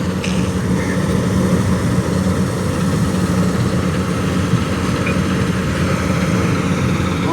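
A new tractor's diesel engine idles steadily and loudly up close, a continuous low rumble with no breaks and no voices over it.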